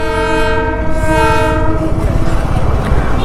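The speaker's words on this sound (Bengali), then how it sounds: "ডিজেল ইঞ্জিন এটা, তাই না? এটা সম্ভবত ডিজেল ইঞ্জিন।" A diesel toy train engine rumbles close by as its horn blares for about a second and a half, then the engine's steady clattering drone continues alone.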